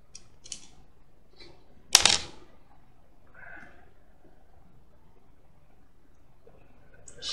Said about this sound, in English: I'm just going to snip off that piece of black wire I put on it.